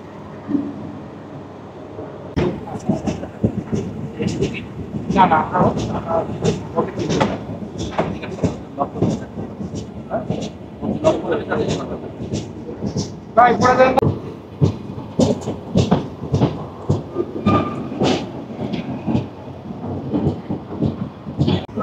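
The Rupashi Bangla Express pulls out of Bhanga station, a series of heavy, irregular thuds and clanks from the train, with some rumbling between them, heard up close.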